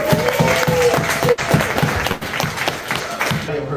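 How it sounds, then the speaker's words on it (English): Crowd applause for comedian Bobby Slaughter at a late-night comedy game show: loud, continuous clapping from a live audience with some voices mixed in. "Give a round of applause for Bobby Slaughter."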